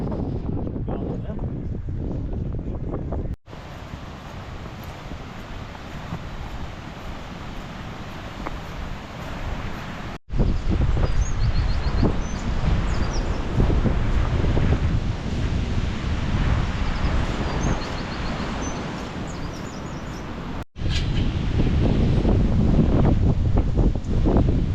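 Strong, blustery wind buffeting the microphone on a mountain path above Loch Tay, a loud, continuous roaring rumble in gusty sections with abrupt cuts between them, no clear talk.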